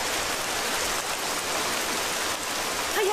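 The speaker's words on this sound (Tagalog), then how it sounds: "Ang lakas pala ng ulan ngayon!" Heavy rain falls in a Tagalog-dubbed Doraemon cartoon, a dense steady hiss of downpour that stays constant and loud throughout the short moment, with no talking over it.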